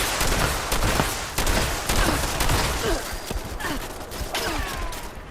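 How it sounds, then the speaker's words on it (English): A machine gun turret in Fallout 76 fires rapid bursts of loud, close gunfire. The shots come in dense, repeated volleys with brief gaps between them, over a busy background of combat noise. "Now, this turret is a machine gun turret."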